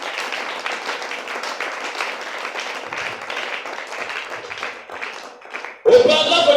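Church congregation applauding at a Sunday service, a dense sustained patter of many hands clapping for several seconds, easing briefly before a louder burst of clapping at the end.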